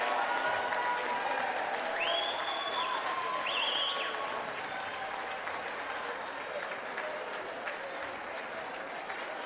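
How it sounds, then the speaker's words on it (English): Fans at a boys' high school basketball game applaud steadily, dense clapping filling a large indoor gym with a few whistles and cheers rising over it. "let's hear the fans give these seniors a round of applause."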